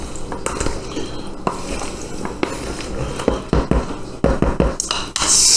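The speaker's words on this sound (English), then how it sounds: "Dump it onto your pasta. You give her this a big stir." Pasta salad dressed with pickle juice being stirred in a bowl, loud close clatter and scraping of a utensil against the bowl in irregular bursts, growing busier toward the end.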